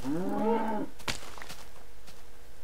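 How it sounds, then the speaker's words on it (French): A cow in the video game Minecraft lets out one loud, close moo that lasts under a second, followed by a sharp click and quiet game ambience. "Ça c'est des vaches."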